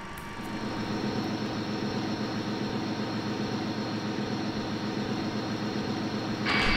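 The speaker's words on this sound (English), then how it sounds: "now we are ready to call the pushback truck and push out of our position" Steady low engine rumble and mechanical drone of a pushback truck pushing an MD82 airliner away from the gate in the Prepar3D flight simulator, continuous and moderately loud throughout, rising slightly at the very end, with no talk.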